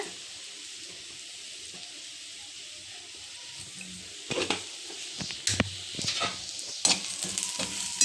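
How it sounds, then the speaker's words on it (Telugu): Onions with turmeric and salt frying in oil, a soft steady sizzle that turns into louder, uneven stirring and scraping in the pan during the second half. "బాగా కలుపుకున్న తర్వాత చూడండి, పైకి కొంచెం ఆయిల్ ఇలా అవుతుంది కదా, బాగా ఫ్రై అయ్యాయి ఆనియన్స్"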